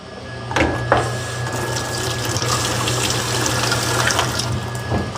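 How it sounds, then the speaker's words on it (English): Food rinsed under a running kitchen tap while prepping for a catering party, giving a steady, close rush of flowing water with occasional splashes and light clatters. "So let me rinse this off."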